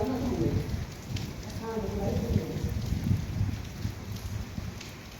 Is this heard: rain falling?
yes